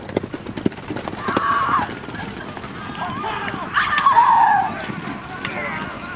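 A horse on a film set gallops with clip-clop hoofbeats and lets out a couple of whinnies, moderately close, with crew voices talking over the sounds.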